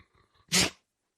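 A single sharp sneeze bursts out close by after a few faint breaths at a farm, then silence.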